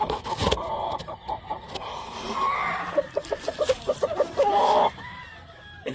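Kelso gamefowl chickens on a Hawaii farm cluck in short repeated bursts, with a few louder calls near the end and bird noise in the background.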